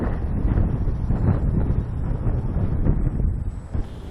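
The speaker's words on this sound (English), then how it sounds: "Windy." Gusty wind buffets the microphone at an airfield on a windy day, a loud continuous low rumble swelling and easing with no voices heard.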